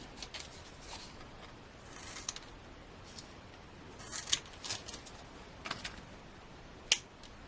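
Scissors cutting card toppers for handmade Easter cards, quiet crisp snips and paper rustles scattered irregularly, with a sharper snip near the end, close and faint with no talking.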